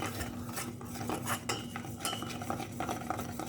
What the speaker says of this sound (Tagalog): At haluin natin syempre. Haluin natin guys.